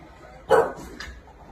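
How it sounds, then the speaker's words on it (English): A small dog barks indoors, two short, sharp barks close by, the first louder, with a quiet room around them. "You're just barking at the wall"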